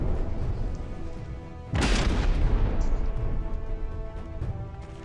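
Naval cannon salvo in a video game of warships with big-gun turrets: one heavy booming blast lands about a third of the way in, followed by a long rumbling roll of continuous battle noise.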